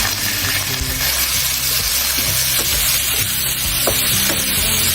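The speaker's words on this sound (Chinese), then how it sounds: "热锅凉油，下肉片" Pork slices hit hot oil in a home wok and fry with a steady, loud sizzle and crackle, stirred and scraped continuously throughout without any talking.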